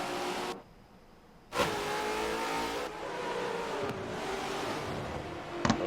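GFL V8 Supercars racing at Road America, race car engines roaring past in turns, with one loud pass cutting in after a quieter dip, further engine swells following, and sharp clicks near the end.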